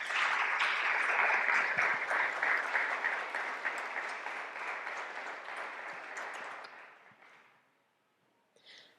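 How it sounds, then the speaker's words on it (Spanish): Audience applause for a speaker at an evening talk on philosophy and suicide, a steady dense clapping that holds for about seven seconds, then fades out. A short faint stir follows near the end. "Vamos a darle un aplauso a Fernanda Rojas."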